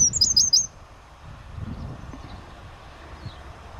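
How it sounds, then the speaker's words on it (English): A small bird chirps close by in a quick burst of bright, rapid notes, heard outdoors on a cycle ride around local villages, followed by quiet low rumble. "Got a lovely bird right next to me."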